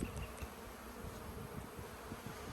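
Honey bees buzz around a hive being split to prevent swarming, a faint, continuous low droning hum with fluctuating intensity, no voices.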